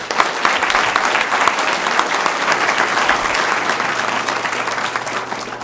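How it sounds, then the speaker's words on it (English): Sustained applause from a large crowd, steady and loud throughout, clapping blending into a continuous wash. "let's give, you know, our community a big round of applause and welcome them"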